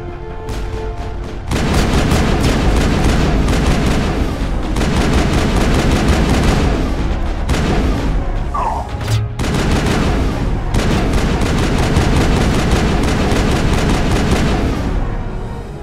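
Rapid gunfire during a firefight with Batarians in the video game Mass Effect, dense bursts of repeated shots crackling almost continuously and loudly, broken by a few short pauses.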